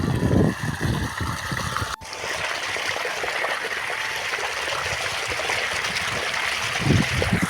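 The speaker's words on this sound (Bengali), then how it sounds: "এদের দেখতে পাচ্ছ পাইপ দিয়ে জল বের হচ্ছে" Water runs steadily out of a pipe in a field as a close, continuous gush and trickle. It is loud and even, with a sharp knock near the start.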